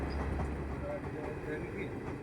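A train rumbles past in a steady low roar, with faint voices in the background.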